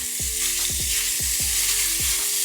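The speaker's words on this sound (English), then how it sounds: "While we're rendering that bacon down" Cut-up bacon frying and rendering in a pan over medium heat gives a loud, steady sizzle with repeated sharp pops and crackles throughout, and no voices.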